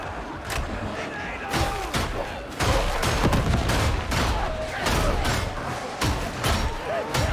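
Repeated booming blasts and crackling bursts pile up densely and loudly in Warhammer 40,000: Darktide, a chaotic barrage with continuous noisy background.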